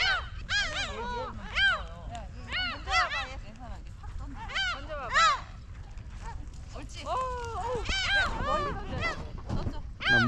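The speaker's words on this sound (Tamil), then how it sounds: "இங்கே இந்த பறவை கத்துறது செம்மையா இருக்கு" Seabirds along the sea road on Jebudo Island, Korea, call loudly and repeatedly in wailing, cry-like squawks, some close and some further off, with occasional talk in between.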